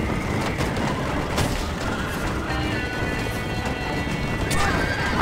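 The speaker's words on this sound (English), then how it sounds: "these horses are very, very sensitive to my joystick." Horses in the video game Red Dead Redemption on PS5 whinny and clop along amid a dense, steady wash of game noise and effects, with no clear talk over it.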